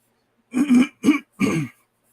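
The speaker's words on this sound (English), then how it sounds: "Gotta clear my throat." Someone clears their throat in three short, rough bursts close to the microphone, followed by silence.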